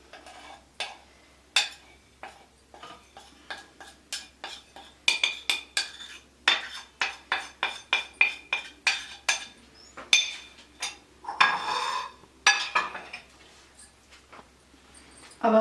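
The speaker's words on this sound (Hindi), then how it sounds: "अब हम इसको अच्छे तरीके से मिक्स कर लेंगे इस तरह।" A spoon scrapes and clinks against a pot while spices and yogurt are stirred into chicken korma, a rhythmic run of sharp metallic taps and scrapes, close and clear, with short pauses between strokes.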